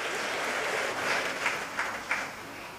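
Audience at a prep school graduation ceremony clapping, a faint, distant patter of applause with a few louder claps standing out near the end.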